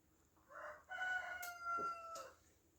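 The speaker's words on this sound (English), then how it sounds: "Morning cockerel" A cockerel crows once in the morning, faint and somewhat distant. The call is a single stretched, multi-part cock-a-doodle-doo lasting about two seconds over quiet background.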